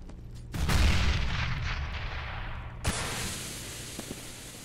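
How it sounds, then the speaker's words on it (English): A grenade blows up on the Mirage map in Counter-Strike, a close, loud broadband boom with a long rumbling tail, followed by a sharp gunshot-like crack a couple of seconds later. "Grenade!"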